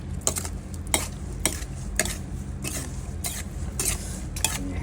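Thai Nile tilapia larb being stirred and tossed in a bowl, with sharp, regular utensil scrapes and clinks about twice a second over a low, steady background, heard up close.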